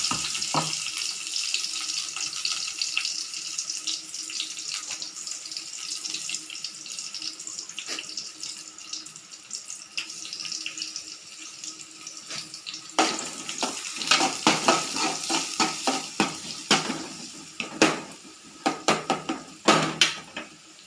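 Chopped onions and tomatoes tipped into a hot pan for urundai kulambu, a steady close sizzling hiss throughout, growing busier toward the end with spoon and pan clanks and scrapes, no voices.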